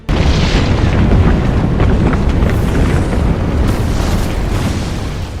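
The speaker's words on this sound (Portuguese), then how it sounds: "Uma gigantesca explosão ainda maior arrebentou todo o cone do Vesúvio" Mount Vesuvius erupts in a massive explosion, a loud, continuous, deep roaring rumble that fills the whole stretch and fades slightly toward the end.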